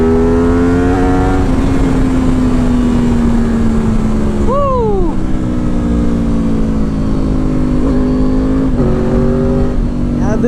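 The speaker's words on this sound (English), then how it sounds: "the crossplane does sound very good. It's got a very muscle V8ish feeling to it." A crossplane superbike engine, about 15 years old, idles and revs with a deep, steady, V8-like drone, held throughout with a brief rising blip near the middle, loud and close.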